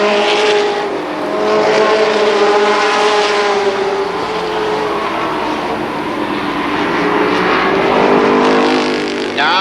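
Winged sprint cars roar around Columbus Motor Speedway in a 1994 race, loud engine drones rising and falling with Doppler swells as the pack passes, a dense continuous wall of racing noise with no talk heard.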